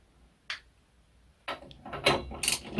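A torque wrench clicks and ratchets on an engine bolt, one sharp click followed by a pause and then a cluster of louder metallic clicks and creaks as the bolt breaks loose at 101 foot-pounds.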